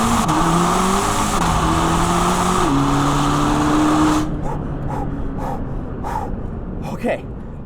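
A Corvette ZR1 pulls hard from second gear, its engine note climbing steadily through a loud, close upshift before cutting off into quieter rumbling, with breathy sounds near the end.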